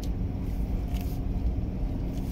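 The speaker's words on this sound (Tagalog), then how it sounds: "Pero kahit saan guys may traffic" Road traffic in Ho Chi Minh City, Vietnam, heard as a dense, steady rumble of passing vehicles, continuous and fairly close with no distinct horns.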